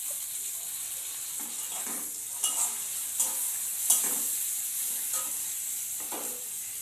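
Tomatoes and spices sizzling in a pan of fried onions for an egg curry, a steady fry broken by several distinct stirring scrapes and clacks of a spoon.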